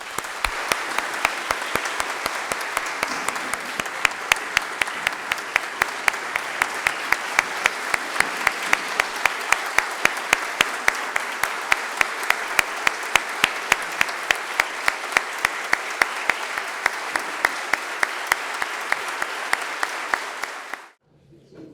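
A large audience applauds Professor Rui Moura Ramos at his final lecture: steady, dense clapping that holds at an even level for about twenty seconds, then stops abruptly.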